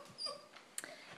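A nine-week-old female European basset hound puppy gives faint, thin whimpers and a small yip, close and quiet, in short soft bursts.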